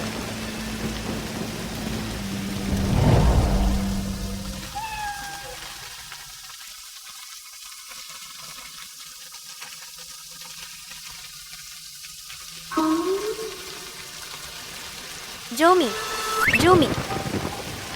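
Heavy rain on a stormy night falls as a soft, steady hiss under sparse talk, with a couple of louder rumbling bursts.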